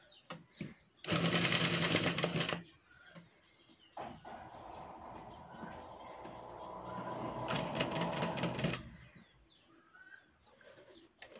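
A sewing machine stitches the collar of a coat-collar nighty in two loud, close bursts with a quieter stretch between, while pigeons coo softly in the background.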